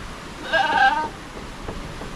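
Goats on a farm holding a growing herd of young kids give a single short bleat, moderately loud over a quiet background.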